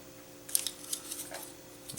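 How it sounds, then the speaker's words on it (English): A few quiet, crisp snips of scissors trimming thin plastic parts of an RC Bruder bulldozer, with soft handling clicks between the cuts. "We got to trim them. You need to get your scissors again."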